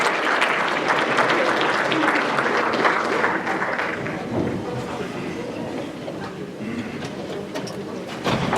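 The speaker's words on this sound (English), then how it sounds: "Let's clap it up for Miss Love." An audience claps continuously, dense and loud at first, then tapering slightly, with voices mixed into the applause.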